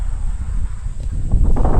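Strong wind buffets a parked car at night at a lakeside campsite, with rain about. A steady, loud low rumble roars close to the microphone and swells toward the end. No one speaks.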